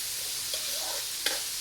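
Fried chicken and palabok sizzle in a pan with a steady close hiss, broken by two brief clinks or stirring knocks; no one speaks.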